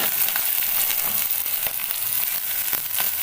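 Onions for a chicken curry fry in a pan, giving a loud, dense, continuous sizzle with scattered crackles and pops throughout and no voices.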